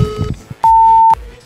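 A single telephone beep sounds loud and steady for about half a second while a call is placed to a pizza delivery service, with faint background noise before it.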